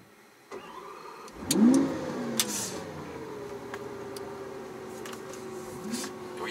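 A Lamborghini Aventador S engine on the Phillip Island track swells loudly in revs about a second in, then holds a sustained, shifting mid-pitched drone with faint clicks and no speech.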